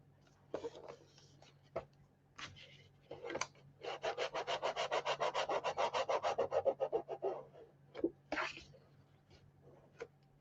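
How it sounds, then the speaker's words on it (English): A tool burnishes paper down on a handmade baby album, starting with scattered short rubs before settling into a fast, even run of back-and-forth strokes, then a few last scrapes, close and fairly quiet. "I'm going to turn it on its side so that I can burnish it down a lot easier."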